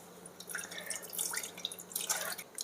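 Coconut milk drips from ground coconut squeezed through a cloth, for a rice cooker recipe: a light patter of scattered drops and a thin trickle, close and fairly quiet, with no talking.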